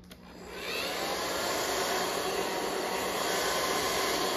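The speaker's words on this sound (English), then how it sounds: "take a blow dryer to it" A blow dryer blasts hot air onto a stubborn sticker on a pantry item to loosen it, a loud steady whooshing roar that rises within the first half second and holds evenly with no talking.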